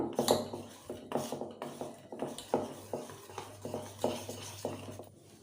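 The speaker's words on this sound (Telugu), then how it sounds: "ఇప్పుడు ఒకసారి అయితే కలుపుకుందాం" Cake batter with Tiger vanilla essence is stirred briskly in a bowl, a steady series of close scraping, clinking strokes repeating roughly every half second, with no talking.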